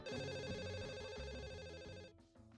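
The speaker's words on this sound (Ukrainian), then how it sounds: "аж раптом на робочий телефон нам зателефонували" A work telephone rings in The Sims 4, a bright electronic trill repeating in quick pulses over a soft low backing, then cutting off near the end.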